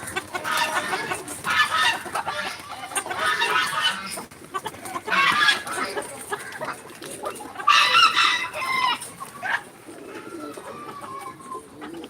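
Hens cluck steadily in bursts while a rooster crows, with birdsong and farmyard noise filling the background throughout.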